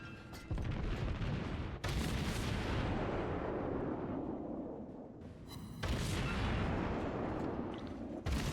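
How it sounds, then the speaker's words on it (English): Naval guns in World of Warships fire high-explosive shells during a battle near the Solomon Islands: heavy booming salvos with long rumbling tails, loud and continuous, a fresh blast landing about every few seconds. "So I am firing HE."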